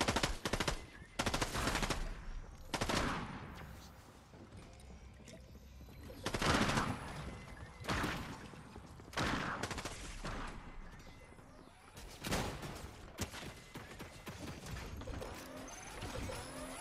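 Bursts of automatic gunfire from the Fortnite video game, several loud rapid volleys separated by short pauses, with sharp single shots and busy game effects between them.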